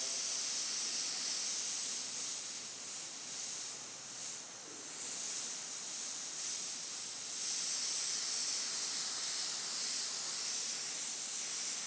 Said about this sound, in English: You can see how I'm steadying the airbrush with both hands as well.